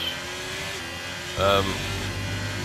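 Onboard engine of a Ferrari Formula 1 car in the F1 23 racing game, a steady high-pitched drone that briefly surges, heard beneath someone talking.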